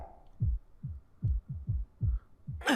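A heartbeat sound effect from the Fate/Stay Night visual novel: a steady, muffled, deep double thump that repeats about six times at a moderate pace, close and alone.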